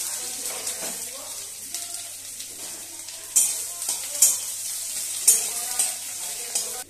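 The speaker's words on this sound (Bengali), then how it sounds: "ফোড়ন ভাজা হয়ে গেছে, এবার আমি পেঁয়াজটা দিয়ে" Onion fries in oil with tempered cumin, bay leaf and dried red chilli, giving a soft continuous sizzle punctuated by irregular spatula scrapes and brief crackling bursts.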